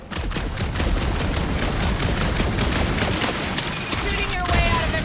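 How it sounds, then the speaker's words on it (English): Dense, sustained gunfire in the Guardians of the Galaxy video game, a loud continuous rattle of rapid shots that barely lets up over the whole stretch, with a few brief tonal effects near the end. "Shooting your way out of every problem again"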